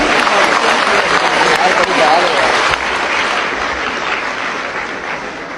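Audience applause at a school ceremony attended by the prime minister fills the hall in a loud, dense wash that gradually eases off over several seconds.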